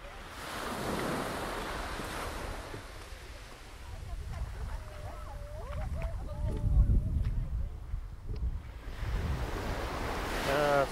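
Surf washes up on Grande Anse Beach, Guadeloupe, with a continuous roar and swelling waves, while gusts of wind buffet the microphone. Faint voices can be heard underneath.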